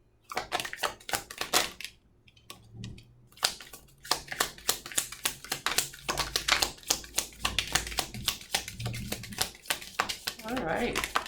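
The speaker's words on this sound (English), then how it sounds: "One more shuffle." Tarot cards are shuffled by hand in rapid bursts of crisp, clicking riffles and slaps close to the listener, with a few short pauses.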